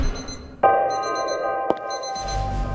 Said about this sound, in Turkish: Bak alarm çalıyor yukarıda.